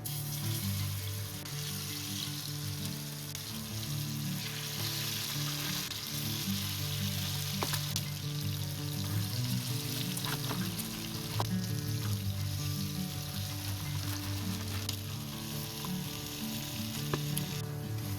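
Fish sizzles and fries steadily in a hot pan with oil, a dense continuous crackle with occasional sharper pops over a low background hum, with no talking.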